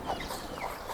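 Road runner chickens on a farm clucking, a few short soft clucks close by in a quiet barnyard.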